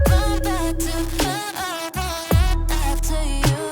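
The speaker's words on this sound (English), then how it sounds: "Just below it, you have a bit crush" Sung vocals run through a bit crusher, sounding gritty and digitally degraded, carried over a beat with punchy low kicks across a few seconds of continuous music.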